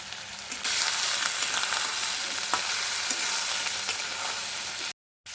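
Poppy seed paste with a little salt and turmeric frying in oil, a loud, steady close sizzle that swells after a quieter start, with occasional stirring scrapes, then cuts off briefly near the end; no voices.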